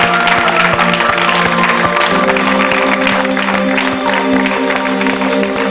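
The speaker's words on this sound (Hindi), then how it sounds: "हम सब अगर खड़े होकर तालियां बजाएं" A studio audience on a Hindi TV show claps together, a sustained wash of applause running throughout, with a music bed or tones beneath and scattered sharp claps standing out.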